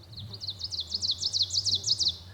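An ovenbird sings a loud, clear, rapidly repeated series of emphatic chirping phrases that build steadily, heard alone and fairly near over a low background hum.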